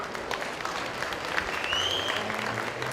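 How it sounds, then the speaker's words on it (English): A crowd at an opening ceremony in Mississauga claps in a steady, sustained round of applause, heard at a moderate level, with faint voices and a few tonal sounds mixed in beneath it. "Give yourself a big round of applause"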